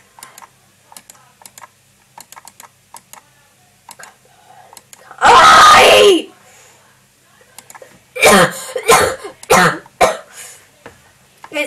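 During a stressful round of a flappy bird style game, a person gives one loud, harsh cough, then later a rapid cluster of shorter coughs, with light computer keyboard tapping going on throughout.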